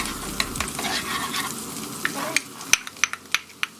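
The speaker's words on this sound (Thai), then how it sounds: "มาผัดหัวหอมนะคะ แล้วก็กระเทียมให้สุก" Onion and garlic fry in a pan with a dense, close sizzle, while a utensil stirs and taps against the pan in sharp, irregular clicks toward the end.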